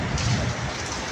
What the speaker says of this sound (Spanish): Ahora sí llovió como debe ser.